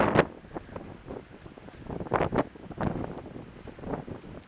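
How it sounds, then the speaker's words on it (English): Gusty wind buffets the microphone on Bournemouth beach on a stormy day, with irregular roaring blasts, blowing sand and faint surf beneath, loud and close. "It's so windy."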